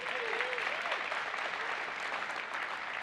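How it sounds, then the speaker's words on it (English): Steady, softly heard clapping from a tech conference crowd at a Windows 10 deployment and management session keeps a uniform dense patter throughout, with a brief vocal whoop early on. "Round of applause, actually. Make it as loud as you can."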